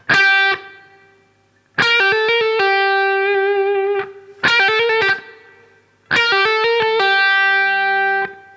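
A distorted electric guitar picks a slow lick, single notes ringing out in separate phrases with sustained tones between short gaps.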